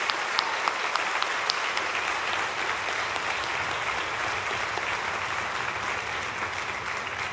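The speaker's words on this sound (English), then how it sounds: "can we give a round of applause to all of those folks?" An audience at a university summer music camp's junior high afternoon performances claps in a sustained round of applause, many hands patting densely and evenly at moderate volume, slowly easing off toward the end without cheering or talk.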